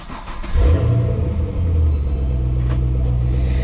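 A Chevrolet Camaro SS fitted with a Varam cold air intake cranks and fires up, its engine catching with a loud rev before settling into a steady, deep, rumbling idle close by.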